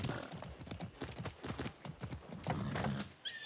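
A horse in Far Cry 6 clip-clops along with a steady run of hoofbeats, then gives a whinny near the end, heard close and alone with no talk.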